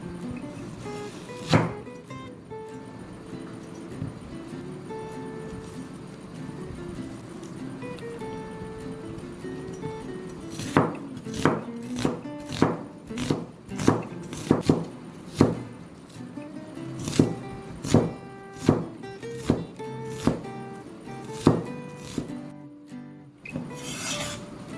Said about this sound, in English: 2 medium-sized onions that I'm chopping up now.